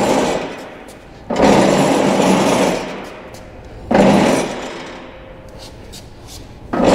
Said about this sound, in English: now your next step is just gonna be to pull this mower deck out from underneath